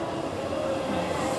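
A train in Kyoto, Japan, gives a steady, close rumble of moving carriages with a thin sustained whine running through it, continuous and even for the whole moment.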